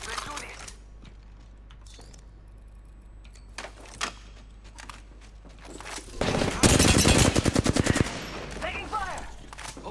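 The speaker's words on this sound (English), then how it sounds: "Taking fire! Opening fire on the enemy." Video game gunfire in an Apex Legends-style match: scattered single shots, then a loud rapid burst of automatic fire near the end, with a faint voice and game effects around it.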